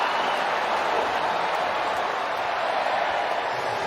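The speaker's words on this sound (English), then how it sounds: "Hometown crowd starting to love it as well." A cricket crowd at Lord's during a London Spirit vs Southern Brave match keeps up a steady, dense roar of cheering and chatter, broad and continuous with no breaks, heard alone without any close voice.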